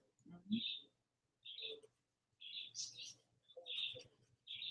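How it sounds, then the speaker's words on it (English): Indoor pet birds chirp in short, bright bursts, several clear calls spaced a second or so apart, fairly close but quiet, with low muffled talk and background noise between them. "Man, the birds in there acting up."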